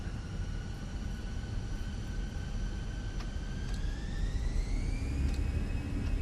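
Airbus jet engines spool up for takeoff in a flight simulator, a steady loud roar with a whine that climbs gradually in pitch.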